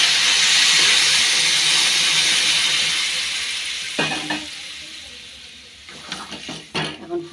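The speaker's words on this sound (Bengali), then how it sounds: "এখন দিয়ে দেবো গরম জল" Broadband sizzling and steaming hiss from a pan of soybean masala, with tomato, onion, ginger, cumin and chilli, as hot water is poured in. The hiss stays loud at first, then fades, and a few clinks and stirring knocks follow.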